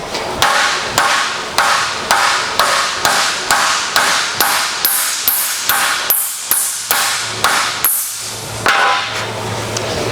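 A hammer pounds a Volkswagen Beetle sheet-metal fender over a block of wood in loud, close, ringing blows at a steady rhythm of about two per second, with no voices.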